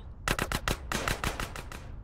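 Gunfire in the video game GTA San Andreas: about ten sharp, evenly spaced shots in quick succession, close and fairly loud.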